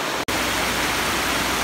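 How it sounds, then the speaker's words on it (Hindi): The waterfall at Nainital roars as a dense, steady rush of falling water, loud and close, broken only by a split-second gap near the start, with no talk. "आपने झरना देखा अभी यहाँ का पानी का"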